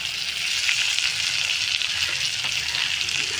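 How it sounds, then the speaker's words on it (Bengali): Ground turmeric and cumin sizzle steadily as they fry in a pan for a lentil dish, with a bright, close, continuous crackle and faint hints of stirring. "এটা ভালো করে নাড়বো, মশলাটা যাতে না জ্বলে যায়।"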